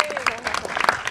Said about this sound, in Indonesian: Mbak Sabrina, ini tapi kita tepuk tangan dulu dong sekali lagi buat Mbak Sabrina.